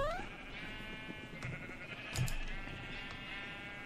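Sheep bleat in the Minecraft video game, a couple of short nasal bleats standing out at moderate loudness over a steady layer of game music and ambience.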